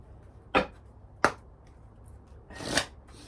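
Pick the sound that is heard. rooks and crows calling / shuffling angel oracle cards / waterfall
shuffling angel oracle cards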